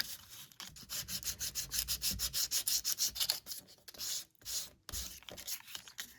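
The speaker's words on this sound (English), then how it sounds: "I'm going to use an emery board, and I'm going to go ahead and sand around the edges to give it a distressed look" Emery board sanding the edges of a paper card to distress it, a rapid run of short, even rubbing strokes close up, pausing briefly and resuming with a few slower scrapes.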